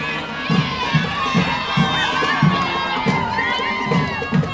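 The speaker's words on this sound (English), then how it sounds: "And it looks like the crowd enjoys them quite a bit too." A large crowd of adults and children at a nighttime Christmas parade in Hammond cheers and shouts continuously, with rhythmic thumps of the band marching by.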